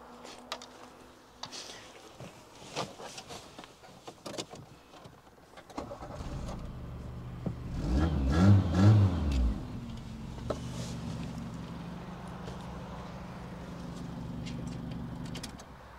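A car engine boosted by a jump starter cranks briefly, catches with a low rumble and settles into a steady idle, heard close after some quiet clicks and handling noises.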